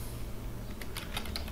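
Keys tapped on a computer keyboard while entering a username into an Oracle APEX form, a short quick burst of crisp clicks late in the moment over quiet room hum.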